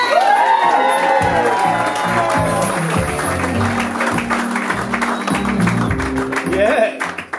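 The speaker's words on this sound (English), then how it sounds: "Put your hands together and give it up for Zach Watson!" A comedy club crowd at the Cranker in Adelaide claps, cheers and whoops for a stand-up comedian taking the stage, a dense sustained roar of applause with shouts that holds loud throughout and then tapers off.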